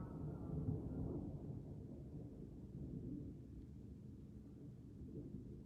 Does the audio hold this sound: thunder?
yes